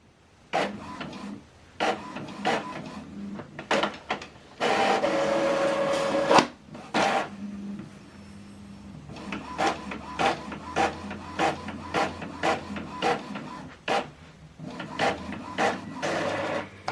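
An Epson printer prints a two-sided black document, with a rapid series of loud mechanical clacks and whirs, a longer feed and grind midway, then rhythmic repeated thumps as the page passes through.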